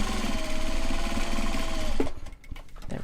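A sewing machine stitches fabric with a steady, close, buzzing whir for about two seconds, then stops abruptly, leaving faint handling noises.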